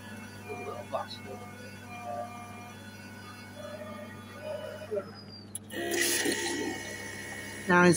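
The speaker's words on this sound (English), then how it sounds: "Now he's pouring in the other milk." A Costa Express vending machine pours milk into a hot chocolate drink, a rushing liquid stream with a pump hum starting partway through, loud and close, after a voice speaks over quiet background.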